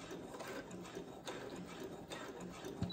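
A Brother sewing machine stitches a seam in steady, continuous running, a close, even mechanical whir with a fast repeating needle rhythm throughout and no talk.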